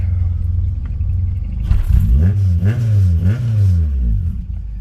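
An Integra engine with a K24A swap cranks and catches on a cold start, then runs roughly with uneven revs rising and falling, loud and close.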